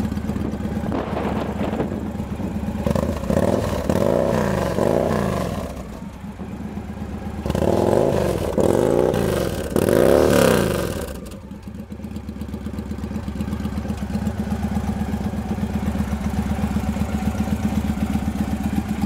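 A 2007 Victory Cory Ness Jackpot motorcycle engine idles loud and close, with several throttle blips rising and falling before it drops back to a steady, rumbling idle.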